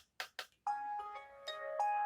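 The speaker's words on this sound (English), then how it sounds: "probably you can hear my alarm too. It's the same noise as the phone ringing." After two short knocks, an alarm sounds with a phone-like electronic ringtone, a sequence of bright sustained tones changing pitch, fairly faint and clear of talk.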